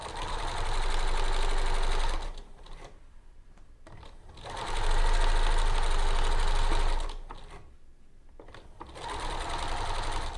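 A sewing machine stitching the top yoke piece of a smocked City Frock runs in three steady, close bursts of rapid stitching, with short quieter pauses between them and no talking.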